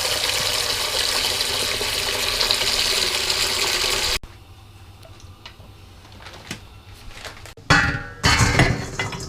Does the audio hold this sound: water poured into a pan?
yes